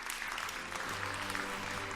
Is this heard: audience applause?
yes